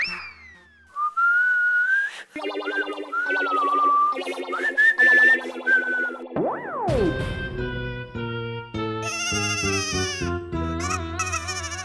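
A person whistles a lively melodic tune up close to show how it goes, the clear, wavering notes then giving way to bouncy, effects-laden music with boing-like sounds.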